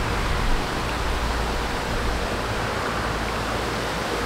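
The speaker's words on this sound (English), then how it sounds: "The wind's been blowing 10 to 15 miles an hour, maybe a little more." Gusty outdoor wind blowing around 10 to 15 miles an hour makes a loud, dense, steady rushing roar with slight surges and no talking.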